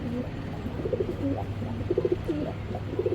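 Tournament racing pigeons cooing softly, a few short soft coos repeating close by over low background noise.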